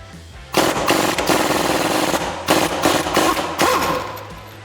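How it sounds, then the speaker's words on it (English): A 1/2-inch impact gun fitted with a 21 mm socket removes a strut nut on a 2011-2022 Dodge Challenger during a coil-over install. It gives loud, close, rattling hammer bursts in three runs separated by brief pauses. "I'm gonna take my 1/2-inch gun with a 21 millimeter."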